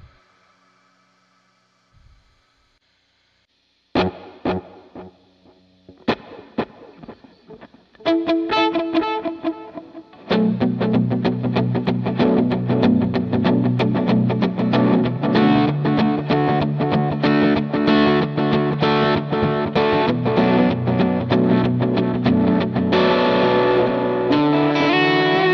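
An electric guitar runs through an effects chain with heavy reverb and distortion, starting with sparse plucked notes and swells, then settling into a continuous dense wash of sustained chords that rings on alone.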